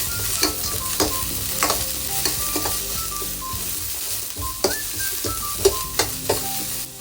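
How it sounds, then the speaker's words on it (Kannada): Chana dal frying in a pan for lemon rice, a steady close sizzle with scraping stirs of a spatula recurring every second or so, no voices. "ಚೆನ್ನಾಗಿ ಫ್ರೈ ಮಾಡೋಣ."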